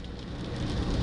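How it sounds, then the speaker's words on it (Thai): Steady rain falling during an evening drive on a parallel road beside a motorway near Si Racha, a continuous close hiss of rainfall and tyre wash with low road rumble throughout. "เพราะฝนตกยังตกต่อเนื่องอยู่ตลอด"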